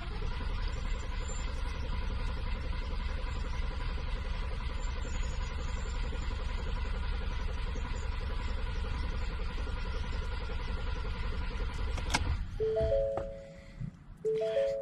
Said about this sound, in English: I'm going to crank the engine for 10 seconds